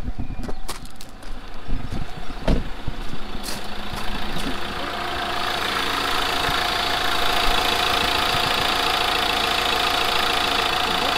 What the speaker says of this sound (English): we just need to start it up now, just to circulate the oil, get the oil filter full